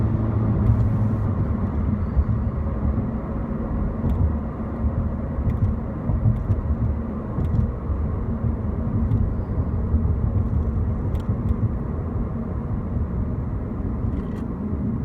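A 2017 Honda Civic Si drives under acceleration, giving a steady, continuous drone with a faint whine over the road rumble, heard from inside the car.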